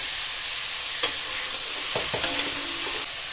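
Chicken mince hits a hot pan with salt, giving a steady sizzle of frying with a few scraping stirs of a spatula, close and fairly loud, with no talking.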